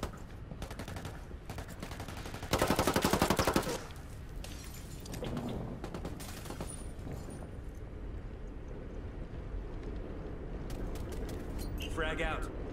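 Gunfire crackles through a Ghost Recon firefight in bursts, with a loud dense volley near the middle and scattered shots around it, while voices talk over the action.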